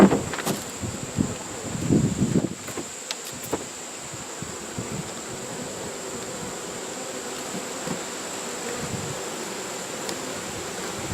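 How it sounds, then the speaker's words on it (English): Dense honey bees crowd a hive frame from a swarm trap, their steady buzzing drone running close and continuous throughout, with a few louder handling knocks and rustles near the start. "But then again, there are so many bees on there."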